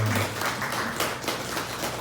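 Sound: audience applause

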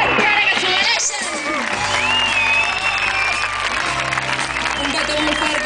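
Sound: applause and cheering for the musicians

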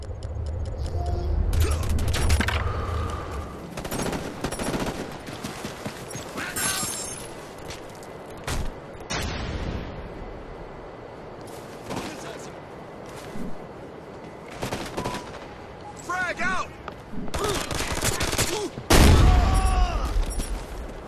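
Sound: sentry gun firing in video game Ghost Recon: Future Soldier

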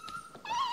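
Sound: five-week-old Airedale Terrier puppy whimpering

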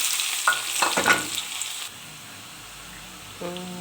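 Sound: chopped onion frying in hot oil in a wok

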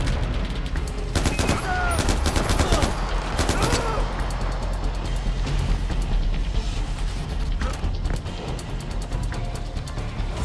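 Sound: gunfire in the video game Far Cry 4

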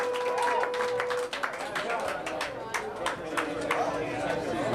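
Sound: concert audience clapping

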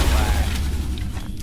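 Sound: grenade explosion in video game XCOM Enemy Within

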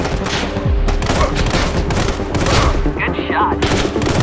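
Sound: assault rifle gunfire in Sniper Fury video game

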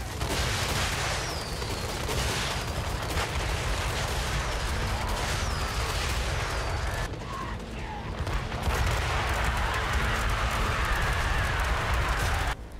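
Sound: dwarf rocket unit firing, video game Total War: Warhammer 3

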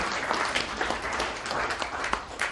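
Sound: audience clapping as Lord Swraj Paul comes

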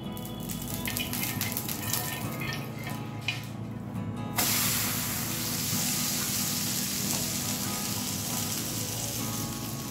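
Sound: spinach thalipeeth frying in oil on a pan

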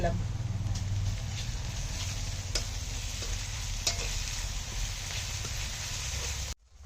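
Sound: frying onions with ginger and garlic paste, stirring

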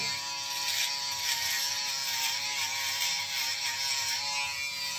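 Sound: electric shaver shaving beard

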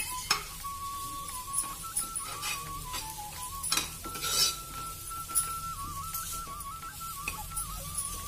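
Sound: frying and stirring ground masala with turmeric in a pan

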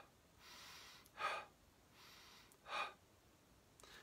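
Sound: exaggerated deep breaths in during meditation

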